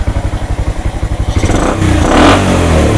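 A carburetted motorcycle engine at idle, thumping in a fast even pulse, then revving up sharply as the throttle is twisted and holding a loud, rough roar close by.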